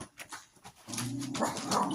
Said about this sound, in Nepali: यहाँ चाहिँ रहेको कुकुर, एक नम्बरको भुक्ने कुकुर हो, भुक्ने कुकुर।